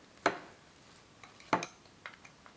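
Flourless chocolate cake batter being mixed in a bowl, a few separate sharp clinks and knocks of a utensil against the bowl spaced over a quiet background, with no voices.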